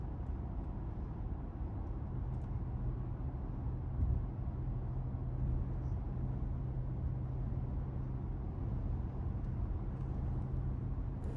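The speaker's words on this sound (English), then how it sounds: "let me give you a sample of the wind noise" Steady low cabin roar inside a 2026 BMW X7 xDrive40i at highway speed, a muted blend of wind and road noise that holds constant and quiet throughout with no talking.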